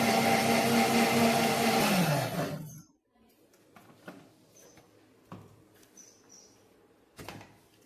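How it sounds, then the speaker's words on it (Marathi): A kitchen mixer grinder whirs loudly as it grinds dal with a little water, a dense close motor whine lasting a couple of seconds before winding down, followed by soft clinks and handling sounds in near quiet. "आता ही डाळ आपण मिक्सरला बारीक करून घेऊ."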